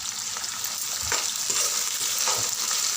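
Onions, green chillies and curry leaves with salt frying in a pan, a steady sizzle with scraping spoon strokes mixing them at an even pace, close and moderately loud, no talking.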